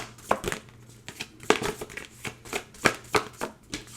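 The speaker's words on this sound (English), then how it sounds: "Let me pull some oracle cards here." A deck of oracle cards is shuffled by hand up close, with quick crisp riffles and slaps in an irregular run of bursts.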